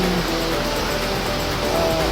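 Steady broadband rush of water pouring at Cotmon Falls, a continuous close roar with no pauses across the short stretch and no one speaking over it.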